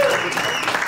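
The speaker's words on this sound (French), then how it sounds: "on peut aussi s'applaudir" Audience applause at a talk held in a village hall, a dense continuous wash of clapping over about a second, close and steady.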